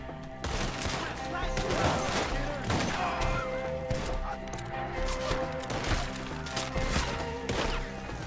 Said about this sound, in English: Shoot the ones up there first!